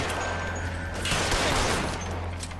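Tommy gun gunfire in the L.A. Noire video game, a dense, sustained stream of automatic shots forming a steady rattling roar for under three seconds, with steady game background hum beneath.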